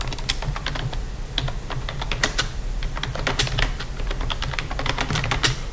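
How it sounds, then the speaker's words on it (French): Keys clatter on a computer keyboard as someone works in Excel, tapping function keys such as F4 in quick, irregular bursts of sharp, close clicks that carry on steadily with no talking. "Et sur le clavier, j'appuie sur F4"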